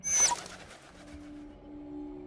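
A bird coos softly in the video game Angels of Death, one short call at the start followed by a quiet, steady low hum.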